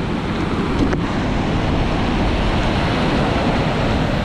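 Rough, muddy sea surging against the shore at Chettuva during heavy rain, a dense, continuous roar of surf and wind buffeting close to the microphone, with no voices.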